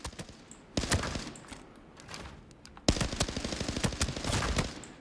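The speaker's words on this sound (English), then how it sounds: "So that is the CZ BREN 2. Very fast rate of fire here." A CZ BREN 2 rifle in Arena Breakout Infinite fires rapid full-auto bursts, two long strings of sharp close shots split by a short pause, very fast cadence and loud.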